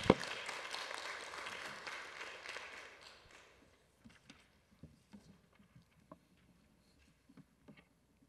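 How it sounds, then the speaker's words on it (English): Workshop audience applauding a panel at an internet governance forum session; a broad burst of clapping fades after about three seconds, leaving a few scattered claps and faint room noise. "Let's give them a round of applause"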